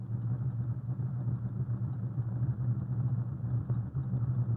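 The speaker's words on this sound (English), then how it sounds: "Here is an open-air assembly line, a fleet of mixer trucks which moves down the forms, filling them with concrete." A fleet of concrete mixer trucks rolls slowly along the forms on a riverside job site, a steady, muffled low engine rumble with no voices.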